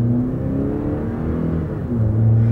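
A pickup truck pulls away from a stop in regular drive with a close, low engine rumble and whir that builds briefly, with no talking.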